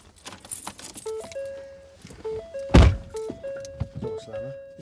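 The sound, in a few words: car door being slammed shut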